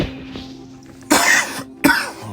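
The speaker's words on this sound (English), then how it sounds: "Oh man, all this coughing." Two sharp, close coughs from a person with a dry throat and a cold, each a harsh burst, the second following about a second after the first, over a quiet background.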